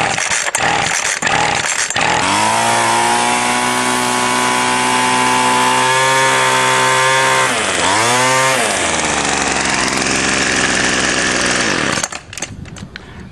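Small two-stroke engine on a weedeater string trimmer running after priming and carburetor adjustment: loud, steady buzzing drone that revs up, dips briefly, then climbs again before cutting off near the end.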